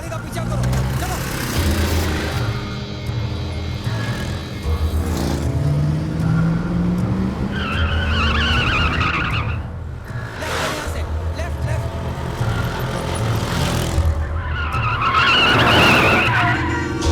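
Car chase in a Hindi action film: engines roar and tires screech and skid repeatedly over about seventeen seconds, loud and continuous, with voices and music mixed in.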